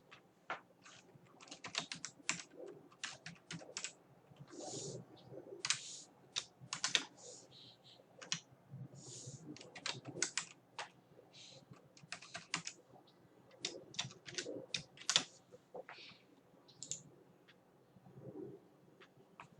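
Someone types a password on a computer keyboard, with irregular bursts of soft key clicks, fairly close and quiet, and faint bird cooing in the background.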